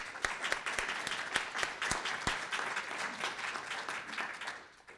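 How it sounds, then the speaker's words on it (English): Applause from a symposium audience after introductory remarks, a few sharp distinct claps at first blending into moderate clapping that fades out over about five seconds. "they really deserve a big round of applause"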